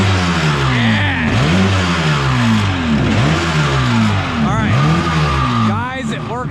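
A small jet boat engine revs hard through its exhaust, its pitch climbing and falling in repeated loud waves close by, with a voice speaking briefly near the end.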